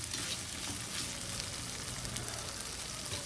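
Ginger-garlic paste and tomato frying in a pan give a steady, dense sizzle, like light rain, continuous and fairly close with no talking.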